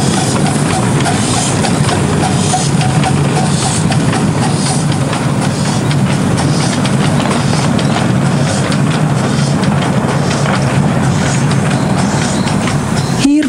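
Steady, loud rumble of a train in motion, with continuous rattling and clatter filling the whole stretch and no pauses.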